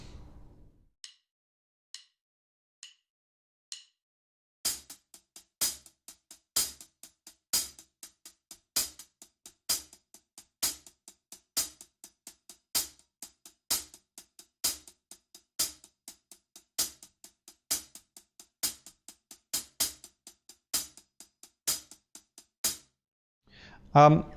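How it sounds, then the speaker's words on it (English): A soul drum groove exercise played on the hi-hat with the right hand, after a few soft, sparse hits: a steady run of crisp, evenly spaced closed-hat strokes with slight accents, close and fairly loud, with no voices over it. "the same exercise on the hi-hat will sound like this"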